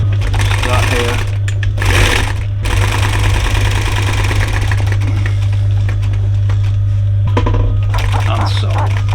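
Sewing machine stitching fabric for a diamond-stitched campervan cushion, a loud steady mechanical whir with rapid needle chatter, briefly pausing and restarting, with a person talking over it.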